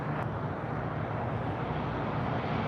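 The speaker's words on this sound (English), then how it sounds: "Docker, runway 25 right, clear for takeoff." A fixed-wing airliner takes off from runway 25 right at LAX, its engines a steady, broad roar with a low hum underneath, holding an even level throughout without talk.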